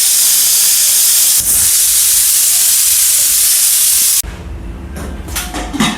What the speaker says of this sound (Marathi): आता कुकरचं ढाकण लावून 2 शिटी घेऊया।